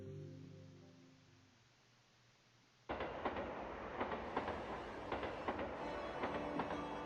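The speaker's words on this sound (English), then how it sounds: "he boarded a train heading in the opposite direction" A train rolls along the rails: after a quiet, low hum, loud rhythmic clickety-clack of wheels over track joints starts abruptly and runs steadily to the end.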